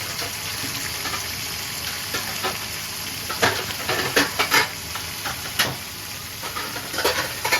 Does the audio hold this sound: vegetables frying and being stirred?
yes